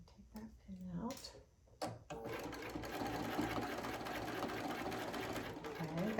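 A sewing machine stitching a quilt block for a Dresden plate unit, with a steady continuous run after a short start. The stitching stays close and even over the background, and some talk is heard near the beginning.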